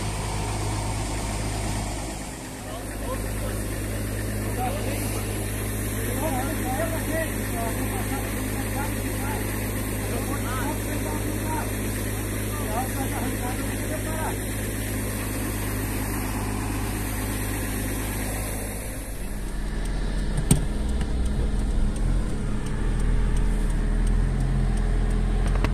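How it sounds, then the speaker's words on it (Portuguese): A truck's engine labours steadily as it tows another truck up the steep Serra Grande mountain road near Igrejinha, Rio Grande do Sul, a continuous close drone with voices talking over it. "ver se vai dar certo agora o caminhão, então, para puxar o outro caminhão."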